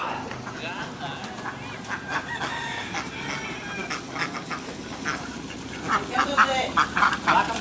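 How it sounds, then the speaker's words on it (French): Many ducks quacking together as a flock, with chicken-like clucks mixed in, a dense and continuous chorus of calls that grows busier toward the end, set in Indonesia. "Un troupeau de canards."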